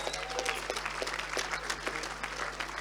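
An audience at the Spirit of Manchester Awards 2019 ceremony claps in a dense, continuous round of applause that sounds moderately distant in a large room.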